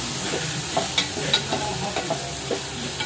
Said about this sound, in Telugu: సరే ఉల్లిపాయలు అయితే వేగినాయండి